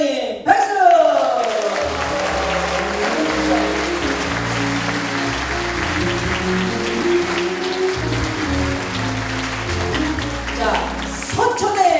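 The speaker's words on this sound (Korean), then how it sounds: "안희정 도지사님 박수!" An audience at a Korean local-government talk show applauds as a provincial governor is introduced, a broad wash of clapping running throughout while amplified voices and background music sound over it.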